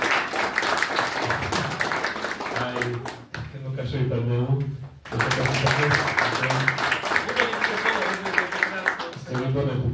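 Audience at a public book presentation breaks into steady applause, clapping continuously throughout while someone speaks over it through a microphone.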